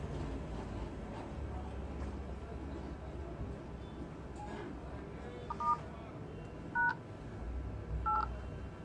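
Phone keypad dialing tones sound on a Realme C12 emergency call screen, three short separate beeps over a noisy low background.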